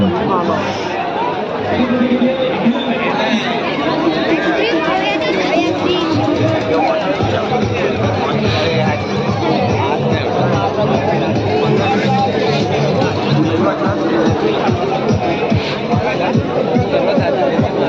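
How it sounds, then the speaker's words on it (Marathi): A dense crowd at a village fair (jatra) in Kharepatan fills the air with continuous babble of many voices and busy chatter, steady and close throughout. "गर्दी गर्दी"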